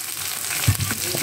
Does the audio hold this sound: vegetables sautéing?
yes